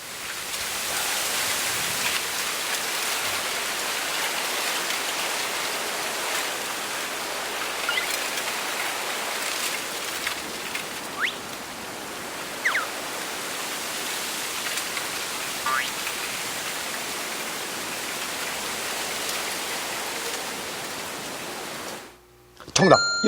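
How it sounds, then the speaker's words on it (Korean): Fishermen haul anchovy nets at sea off Oeyeondo island, heard as a continuous hiss of churning, splashing water that stays dense and even before cutting off at the end. "어부들이 멸치 그물을 당기는"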